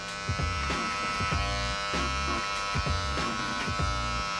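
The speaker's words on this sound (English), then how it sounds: "we're gonna just clipper over comb that shadowy area right in there." Electric hair clippers buzz steadily during a clipper-over-comb bald fade, a close, continuous hum with rhythmic dips and scrapes as the blades pass over the comb and head.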